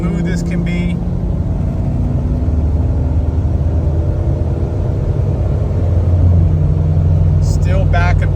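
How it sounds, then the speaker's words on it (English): A restored Jeep Cherokee XJ with a Stage 2 build accelerates hard on a hot, humid day, its engine a loud, close, continuous drone with rising pitch and a full-RPM gear shift near the end. "Now we'll go ahead and do a good acceleration, drop of gear, full RPM shift, smooth as can be."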